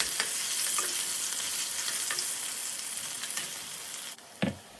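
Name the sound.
onions frying in a pan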